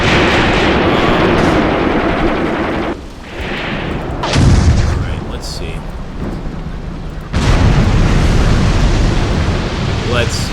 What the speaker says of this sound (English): So this is the 75mm pack gun. I've never used this as an artillery piece.